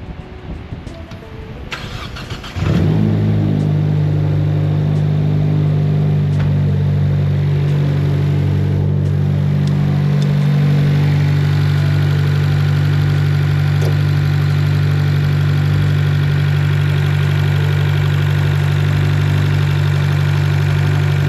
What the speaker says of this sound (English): go ahead and turn the car on and make sure that there's no leaks.